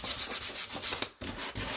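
Wood sanded by hand with a small square of sandpaper while making a toss-and-score game board, quick rhythmic rubbing strokes with a short pause near the middle, close and moderately loud.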